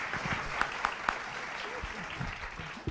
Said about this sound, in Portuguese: Merecidos aplausos.